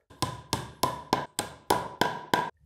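A hammer taps a wooden dowel into an IKEA Malm dressing table: eight sharp, close wooden knocks at a steady, even rhythm, each ringing briefly before the next strike.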